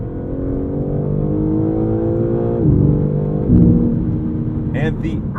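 A 2023 BMW M3 Competition xDrive pulls under throttle, its engine droning and climbing through revs with a gear change midway, heard from the cabin with a brief higher whir near the end.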